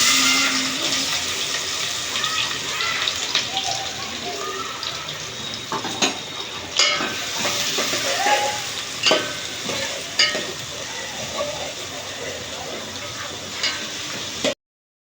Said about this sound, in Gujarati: તો આપણે તો ચિકન વઘારી દીધું છે